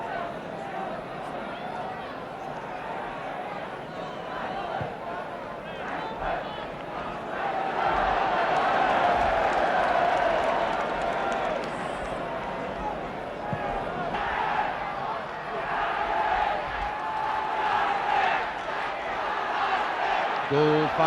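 A football crowd at a 1969 league match between Leeds and an opposing side rumbles in broad, sustained noise, swelling louder midway as jeers aimed at a player rise, with a commentator talking over it throughout.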